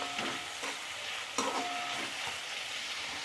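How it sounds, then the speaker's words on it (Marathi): A spoon scrapes and turns a smoky mashed eggplant mixture in a hot pan, with a steady sizzle running underneath and a few louder clinks of the utensil against the metal. "याला व्यवस्थित आता मिक्स करून घ्यायचं"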